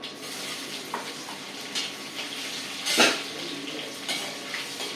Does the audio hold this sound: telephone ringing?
no